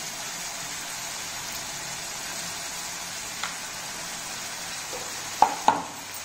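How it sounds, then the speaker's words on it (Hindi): Turmeric and salt being stirred into poha in a home kitchen pan: a faint, steady soft hiss with a few sharp spoon clicks against the pan near the end. "फिर हल्दी और नमक मिला देना है इसमें"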